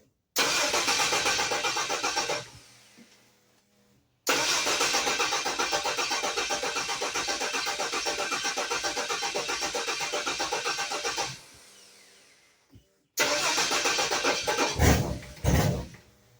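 A turbocharged Ford 300 inline-six swapped into a Ford Torino cranks and catches, runs loudly and steadily for several seconds, dies, then fires again with a few sharp revs, close up with no talking.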